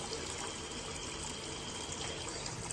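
Water pours steadily from the handheld head of an Aolemi shower system, a dense, even hiss of spray that stays constant and close with no voices.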